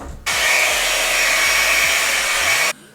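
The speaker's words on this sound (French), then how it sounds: "je vais... sécher juste cette mèche" A handheld hair dryer dries a single strand of freshly blonde-coloured hair, blowing as one steady, loud, close whoosh for about two and a half seconds with no talking.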